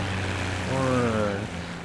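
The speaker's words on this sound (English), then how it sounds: "Wait for that plane to go by." A propeller airplane drones past in the World of Tanks game, its engine tone swelling briefly and then fading against a steady low background.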